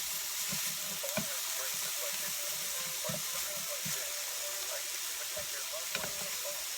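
Mushrooms and peppers fry for a steak sub, a steady close sizzle with a spatula tapping and scraping the pan at intervals, and a voice speaks quietly underneath.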